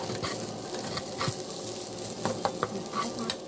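Leftover rice stir-fried for fried rice crackles and sizzles in a pan, a continuous frying hiss with scattered small pops and scraping stirs, no voices.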